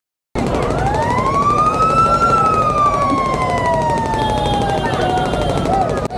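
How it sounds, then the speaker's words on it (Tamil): A loud fish market siren in Chennai wails nearby, its pitch rising slowly then gradually falling in one long sweep over a busy, noisy background. "இதான் நான் சொன்ன சைரனு"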